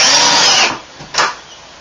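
Power drill driving screws during a bathroom remodel, a loud whirring burst lasting over half a second followed by a short second spin, close and alone.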